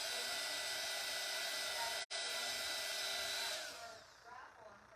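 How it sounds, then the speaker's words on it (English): A steady rush of compressed air blasts from a nozzle to dry a surface, loud and continuous with one very brief cut midway, then thinning and tapering off toward the end. "Let me just hit it with the air."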